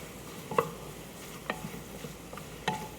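Whole fennel seeds fry in oil in a pan while being stirred, a soft continuous sizzle broken by three or four distinct scrapes and taps of the spoon against the pan.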